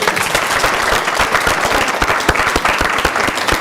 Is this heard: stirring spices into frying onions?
no